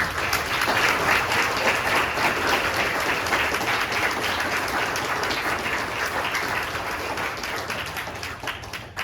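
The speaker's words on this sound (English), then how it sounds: "I'd like to honor you with a round of applause just for your tireless work and commitment." An audience at a talk on Charleston's Black burial grounds gives a sustained round of applause, dense continuous clapping that holds steady and eases slightly toward the end.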